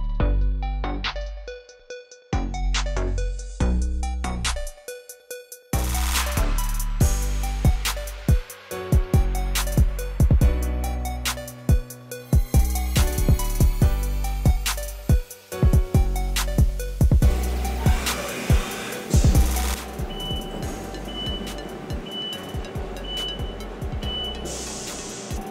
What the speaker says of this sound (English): let's run it without the stops and let the machine produce a washer